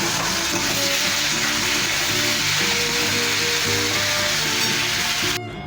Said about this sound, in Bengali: তেলটা গরম হয়ে গেছে, আমি চিংড়িটা ফ্রাই করে নেব।